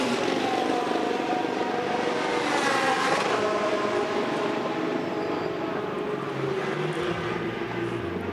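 Race cars entering the pit lane during the Hankook 24H endurance race at Brno, with loud, continuous engine roar close by, rising and shifting in pitch as cars pass, and no talk.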